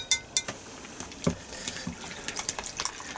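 Omelette ingredients mixed in a bowl for a Salter XL Duo omelette maker: sharp utensil clinks and taps, close and irregular, with softer stirring noise between them and no talk.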